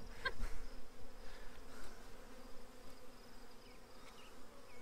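Honey bees buzzing in an open, unsmoked hive during a beekeeping inspection, a faint steady drone with a few louder individual bees passing close.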